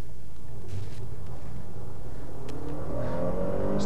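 A turbocharged car accelerates on a drive near Flagstaff, heard from inside the cabin. A low engine drone builds into a rising whine toward the end, with no talking.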